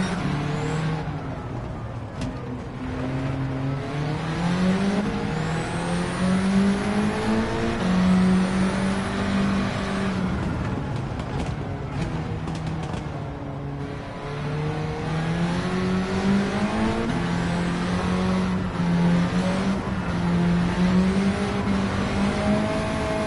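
A Mini Cooper with a swapped engine races in Gran Turismo 7, its engine revving up and down through gear changes with repeated rising pitch sweeps and brief tire squeal, loud and close.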